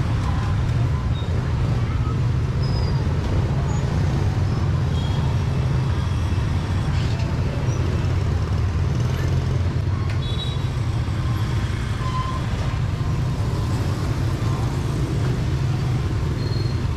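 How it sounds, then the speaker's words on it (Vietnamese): Jammed traffic at a busy Tết market street in Sóc Trăng makes a continuous low rumble of engines and road noise, steady and dense for the whole stretch. "Rồi đông quá kẹt xe nữa nè quý vị."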